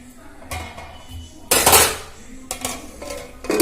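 A metal lid lands on a cooking pot of papaya and potatoes with a sharp clatter, followed by a couple of lighter clinks as it settles, close and loud in a quiet kitchen.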